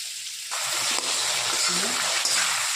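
Potatoes frying in hot oil in a pan, giving a steady, fairly loud sizzle with a bubbling hiss that stays even throughout.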